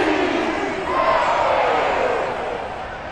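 A home crowd roars in the video game Madden NFL 23, a broad, loud wash of cheering that swells and then eases slightly over a few seconds.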